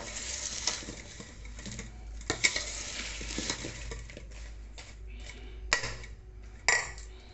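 Lemon pickle being mixed by hand in a container, a steady scraping stir with scattered soft clinks and pats of the vessel, close and moderately loud with no talking.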